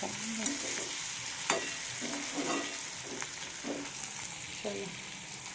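Spinach frying in a pan, a steady soft sizzle broken by repeated scraping stirs of a utensil against the pan at a fairly even pace.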